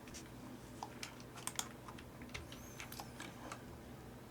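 Fingers tap on a computer keyboard in a quiet room, a quick irregular run of soft clicks with a few sharper keystrokes, one of them the Enter key.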